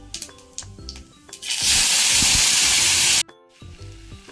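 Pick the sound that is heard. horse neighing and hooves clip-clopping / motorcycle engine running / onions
onions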